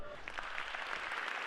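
A concert audience and musicians in Berlin rise for a standing ovation, sustained dense clapping filling the hall at steady volume throughout, with no voices standing out.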